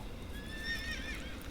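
A horse whinnies in Shadow of the Colossus, a wavering high neigh held for about a second over a steady low ambient rumble.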